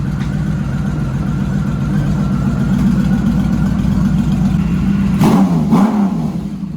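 Honda Valkyrie motorcycle engine, revived after sitting ten years with some popping on one bank, runs steadily close up, then revs twice in quick bursts near the end.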